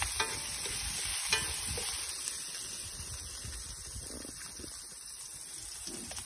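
Garlic stir-fries in a hot pan, a loud, continuous sizzle with scraping stirring strokes throughout.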